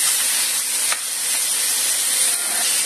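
Chicken pieces fry in a pan with shallots, garlic, ginger and chili, giving a loud, steady, close sizzling hiss with one brief sharper burst partway through.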